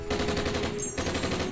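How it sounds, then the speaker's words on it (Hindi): Rapid burst of machine-gun fire rattles loudly and continuously for about a second and a half, a dramatic sound effect set under a solemn recitation about a border shooting. "कल सरहद पे गोली चली,"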